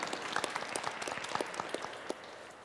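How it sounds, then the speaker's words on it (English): Scattered clapping from a small crowd at a Catholic youth catechism session with bishops, a few pairs of hands patting irregularly rather than a full ovation, fairly quiet and brief. "We'll give him a round of applause anyway."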